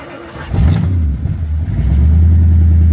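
A 1963 Ford Galaxie engine catches and settles into a loud, close running note, then climbs into a stronger, steady rev as the throttle is pressed, with no talking.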